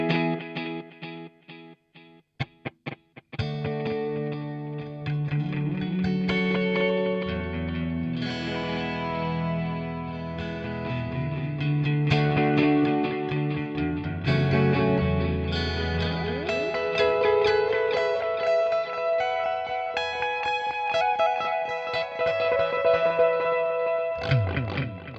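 Electric guitar played through a Flashback 2 delay pedal running a Duel Delay TonePrint at default delay time and feedback, a few sparse plucks followed by a continuous stream of echoing notes and repeats, close and full, no voices.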